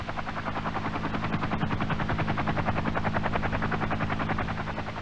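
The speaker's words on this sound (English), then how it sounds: "As the Chinook carrying the M54 launcher will fly at about 70 knots" A CH-47 Chinook twin-rotor helicopter flying at about 70 knots while carrying an M54 launcher, its rapid, steady blade chop and engine whine continuous and fairly loud throughout with no talking.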